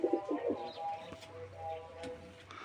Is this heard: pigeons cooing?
yes